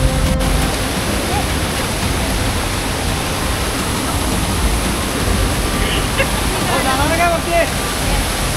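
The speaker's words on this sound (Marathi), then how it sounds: "हा आहे वॉटरफॉल" A monsoon waterfall at Lotus Resort in Lonavala, a steady broadband roar of falling water that stays loud and even throughout, with faint voices now and then underneath.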